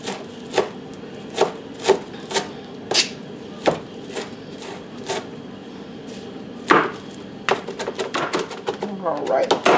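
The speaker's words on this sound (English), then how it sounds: "I'm going to cut the stems, and then I'm just going to rough chop the rest" A knife rough-chops fresh parsley on a cutting board in a kitchen, with a steady run of crisp, evenly spaced chops that speed up into a rapid flurry toward the end.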